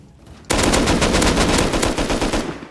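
Rapid automatic gunfire in the Rust video game, a loud sustained burst of closely spaced shots that starts abruptly and runs to the end.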